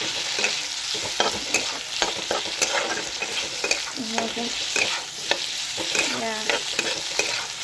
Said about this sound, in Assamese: বিলাহীটো অকণ ভাজি